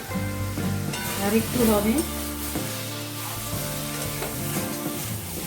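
Potato curry sautés in a pan, a continuous sizzle under stirring, while a voice speaks briefly over it and music plays in the background.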